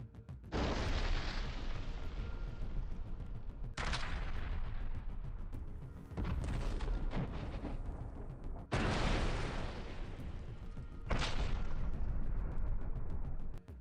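Russian artillery fire on infantry positions, a series of heavy, loud booming blasts with long rumbling decays, about five separate detonations spread evenly across the stretch, each sustained and dense with no voices.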